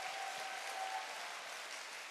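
Steady applause from an audience at a seminar event, a dense continuous patter of clapping hands at moderate distance with no pauses.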